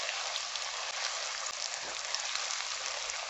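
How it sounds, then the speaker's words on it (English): Spinach cooking in a pan with cayenne pepper, a steady close hiss of sizzling, even and unbroken, with faint stirring scrapes and no talking. "I'm just going to stir this down and cook it for 1 more minute."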